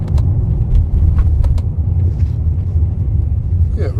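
A BMW S85 V10 fitted with a dual-clutch gearbox rumbles along a road, its engine note loud and close, with brief sharp blips as it downshifts while driving.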